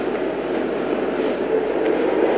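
A train in the video game Mirror's Edge gives a steady, continuous rumble and rattle with faint clicking, a close and even wash of rail noise with no talk over it.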